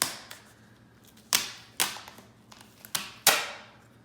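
Sharp tearing pops as adhesive tabs are peeled off the cardboard box of an Xbox Series X, five distinct crackling rips spaced over a few seconds, close and fairly crisp in a quiet room.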